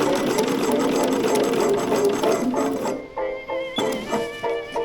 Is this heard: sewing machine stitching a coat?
yes